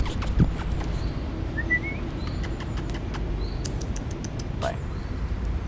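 A bird chirps outdoors on a street in Milan, giving a few short, thin calls scattered over steady background noise, with faint voices nearby.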